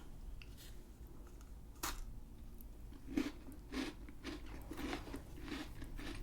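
Close, quiet bites into a Christmas pudding biscuit, giving a few crisp crunches followed by soft chewing, with no talking.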